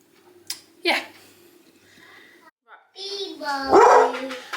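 A dog barks a few times, sharp and close, mixed with bits of a voice and some background noise.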